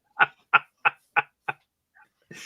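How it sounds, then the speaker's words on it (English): Five evenly spaced, sharp chirps sound close and clear, like crickets, then a faint trailing noise at the end; no talking. "I've got noise canceling headphones on and I can still hear the crickets"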